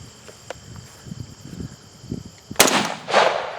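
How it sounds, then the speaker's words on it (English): Chinese SKS bullpup rifle firing outdoors, a single sharp loud report followed by a second burst of noise, after quiet ambience with faint clicks and insect-like chirps. "You pop that out and we're hopefully ready to fire."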